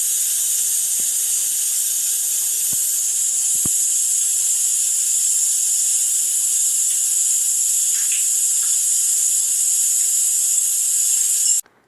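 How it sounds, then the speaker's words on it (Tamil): Onion paste sizzling steadily in hot oil in a kadai, a loud continuous bright hiss with a few faint clicks and taps, no talking. "கடாயில் ஆயில் ஊற்றி ஹீட் ஆனோடனே ஆனியன் பேஸ்ட்டை போட்டு"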